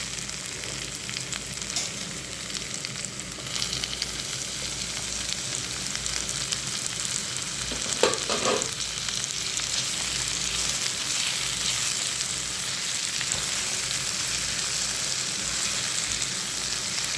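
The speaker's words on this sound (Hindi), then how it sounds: "अब हम इसमें डाल देंगे 2 टमाटर और 2 सब्ज़ मिर्च।" Onions, tomatoes and green chillies fry in a pan for egg ghotala curry, a continuous even sizzle with a brief clatter of stirring midway, close and steady with no voices.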